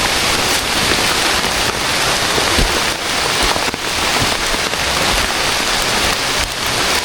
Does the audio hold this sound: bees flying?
no